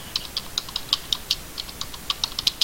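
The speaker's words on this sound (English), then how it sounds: "You need to type in a project name." Computer keyboard being typed on to enter a project name, a quick irregular run of crisp clicking keystrokes, close and clear, with no talking.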